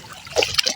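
Water trickles and drips as a bamboo fish trap is raised from a small pond while fishing for shrimp: a short, close, splashy dribble lasting under a second.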